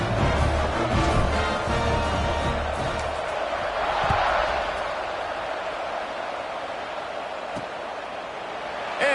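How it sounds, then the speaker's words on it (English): A football stadium crowd buzzing after a score in a game against Minnesota, a dense, steady roar of many voices filling the whole stretch, with a swell in the middle and a few faint thumps underneath. "this crowd is buzzing after that last score"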